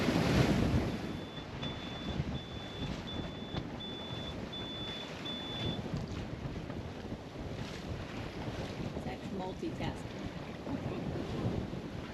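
Wind rushes steadily past a sailboat moving between the British Virgin Islands, a continuous breathy roar with microphone buffeting and faint water sounds, loud and close.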